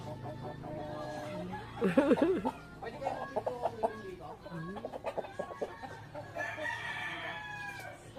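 A rooster crows among clucking chickens, the crow rising clearly at mid-clip while hens cluck and chatter around it, with people talking quietly in the background.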